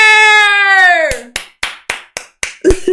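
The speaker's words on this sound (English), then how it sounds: "They're clapping." People clap in about six sharp, separate claps at a steady rhythm, close and loud, right after a sustained tonal vocal sound.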